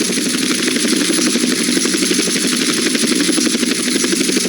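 A helicopter in the video game GTA San Andreas flies with a loud, continuous rotor chop and engine roar that stays close and steady throughout.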